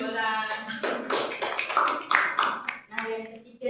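A classroom of students claps hands briefly, quick taps blending under continuous voices and talk close by.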